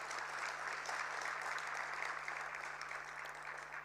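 Faint, steady applause from a budget review dinner audience for the Honourable Minister, an even wash of clapping heard from a distance with a low hum underneath.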